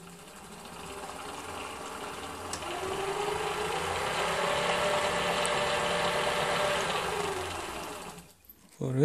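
Electric motor of a remote-controlled electric Bobby Car ride-on toy running steadily at close range, a continuous whirring drone rising and holding for several seconds before cutting off abruptly near the end.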